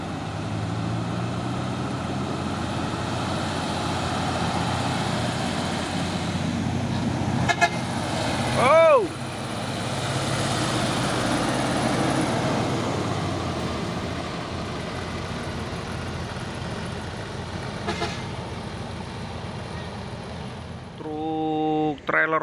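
A trailer truck hauling a shipping container rumbles along the road with a steady engine drone, a brief horn toot midway and another honk near the end, with traffic noise around.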